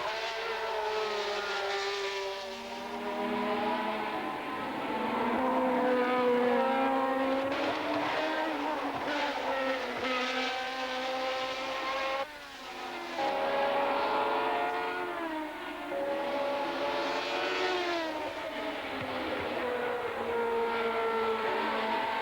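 1975 Formula 1 race cars, Ferraris leading, scream at high revs. The pitch climbs and falls through gear changes as the cars race by in a continuous loud roar with no talk.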